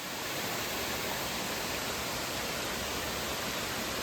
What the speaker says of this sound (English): This is a better waterfall than the one I hiked to.